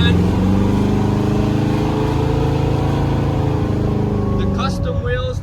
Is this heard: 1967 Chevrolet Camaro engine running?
yes